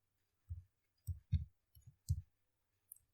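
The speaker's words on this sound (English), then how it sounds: "I type the text English" Computer keyboard keys tapped while entering text, a handful of soft, close clicks spaced irregularly with quiet gaps between them.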